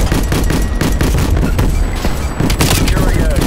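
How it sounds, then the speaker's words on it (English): Dense, continuous gunfire and booming blasts, a flashbang grenade among them, fill a Call of Duty Black Ops Cold War match, loud and close with no pause. "Make way! Send a flashbang!"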